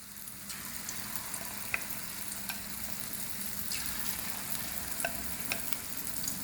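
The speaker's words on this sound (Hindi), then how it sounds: "एक एक पीस करके शामिल करते जाएंगे। मीडियम फ्लेम पे फ्राई करेंगे।" Chicken Manchurian pieces fry in oil over a medium flame with a continuous soft sizzle. Scattered crackles and pops sit on top of it, and no one speaks.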